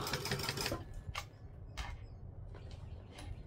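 Sewing machine top stitching over fabric fringing, a quiet whirring run at the start followed by short bursts of stitching, faint and close.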